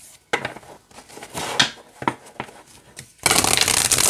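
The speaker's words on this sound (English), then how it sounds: "That is actually a really nice flexible shuffle there" Oracle cards are shuffled in several quick riffling bursts, crisp and close, ending in a longer continuous flutter.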